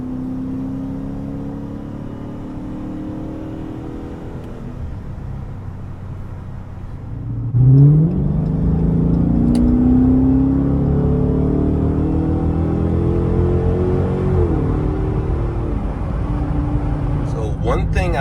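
A Chrysler 300 S with a 5.7 Hemi V8 and MagnaFlow Magnapack exhaust cruises with a low, steady drone, then drops a gear and roars into hard acceleration on the interstate, the rising exhaust note staying loud and close for the rest of the run.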